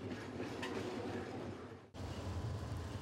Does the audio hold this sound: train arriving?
yes